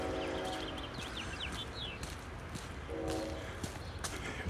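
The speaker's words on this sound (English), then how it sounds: "The train in the distance." A train rumbles far off with faint horn-like tones, heard outdoors while walking near College and Broadway in Regina, under steady city ambience with scattered birdsong and footsteps.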